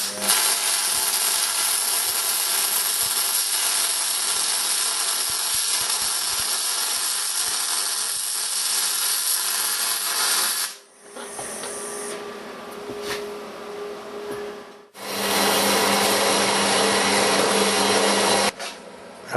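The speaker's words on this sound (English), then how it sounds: "I'll put a couple of tacks on and then we'll weld it." Steel plates of 8mm and 14mm thickness being arc welded, a loud continuous crackling hiss lasting about ten seconds, a brief quieter pause, then a second sustained crackling burst, close to the work.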